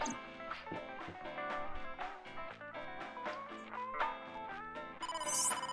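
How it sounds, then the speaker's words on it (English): A phone rings in the video game AI: The Somnium Files. It is a steady electronic ringtone over the game's music and runs through the whole stretch with no talk. "Oh, phone call."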